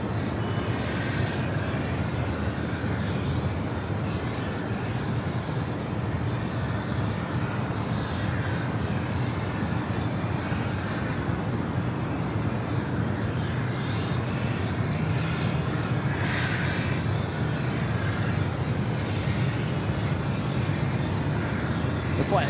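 A WestJet Boeing 737-800 bound for Calgary rolls on runway 24 left at LAX, its engines making a continuous, even roar at some distance that holds steady throughout, with occasional faint voices.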